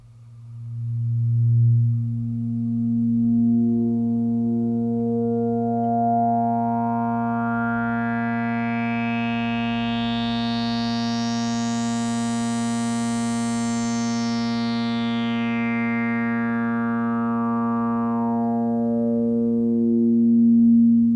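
A resonant Waldorf Quantum synthesizer tone, its 24 dB low-pass filter at 50% resonance sweeping slowly open to a bright, whistling peak and then closing back down, loud and sustained, no voices.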